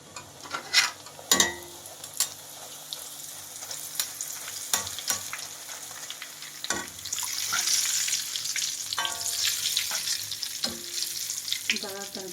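Flattened rice (poha) sizzles as it fries in oil for a savoury mixture, with soft continuous crackling broken by sharp clinks and scrapes of stirring.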